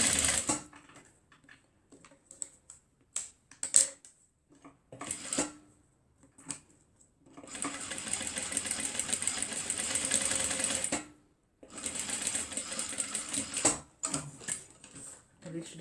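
A sewing machine stitches a fabric face mask with a filter pocket, running in two long, steady whirring bursts separated by pauses, with softer clicks and handling noises in between.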